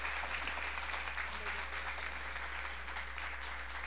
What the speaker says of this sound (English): can we just give them one more round of applause?